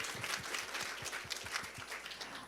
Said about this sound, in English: why don't we start with a big round of applause?